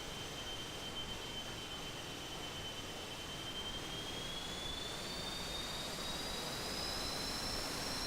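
A LearJet's twin jets roar at full takeoff throttle in Aerofly FS 4, a steady, loud, close wash of turbine noise with a high whine rising slowly in pitch throughout, with no voices.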